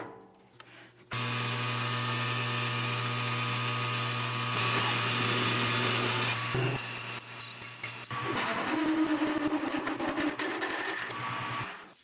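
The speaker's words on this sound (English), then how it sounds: "Start out with a center drill." Center drill spinning into an excavator part on a lathe, a steady loud machine hum with a tonal whine, then scraping, chattering cutting noises as the drill bites in, alone without talk.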